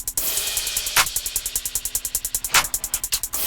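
A drum loop of clap, crash and hi-hat compressed with OTT: fast, bright, evenly spaced hi-hat ticks run throughout, and two loud crash-and-clap hits land about a second and a half apart.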